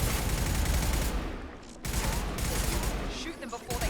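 Gunfire in the game Mass Effect 2 during a combat encounter, with dense, loud bursts of automatic shots, a brief lull, then more rapid firing.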